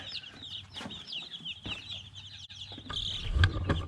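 Baby chicks four or five days old peeping, a continuous chorus of high, close chirps in a brooder, with some low handling bumps toward the end.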